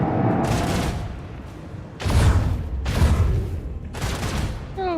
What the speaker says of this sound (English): Oh, it blew up my torpedoes.